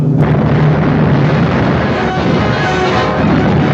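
Ship cannons firing in a costume sea battle film, a loud close blast opening into a long rumbling roar that fills the whole stretch.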